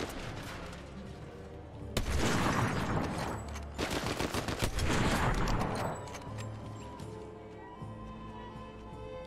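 SMG hip-fire in the Fortnite video game, two loud sustained bursts of rapid gunshots close up, separated by a brief pause and fading to quieter game sounds afterward.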